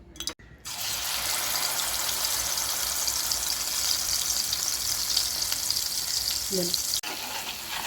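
Masala spices hitting hot oil for a tempering, a loud, continuous, close sizzle and crackle that runs steadily without a break, with no voices.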